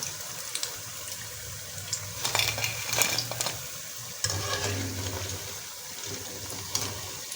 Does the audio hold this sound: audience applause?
no